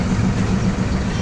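A tractor engine idles and chugs during a ride at a farm attraction, a loud, steady low-pitched drone with a faint rhythmic pulse, filling the whole short stretch with a voice partly mixed in.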